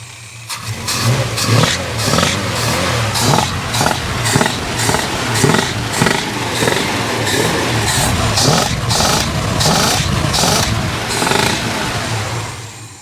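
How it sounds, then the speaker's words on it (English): A running boat engine with sharp, irregular crackling bursts popping from the carburettor over a steady mid-pitched drone, loud and close, no voices. "I don't know if you can hear that crackle, but that noise is now coming out the carby"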